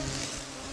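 Mosquitoes whine and buzz steadily in a Siberian forest on the Putorana Plateau in July, a close, continuous high-pitched drone with no talking.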